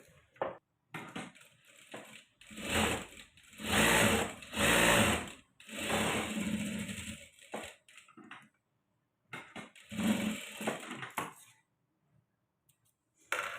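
Sewing machine stitching a folded blouse seam, several close bursts of rapid mechanical whirring separated by short pauses, with no talk over it.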